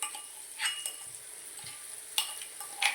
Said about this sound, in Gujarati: રીતે બધું નાખીને મિક્સ કરી લેવાનું.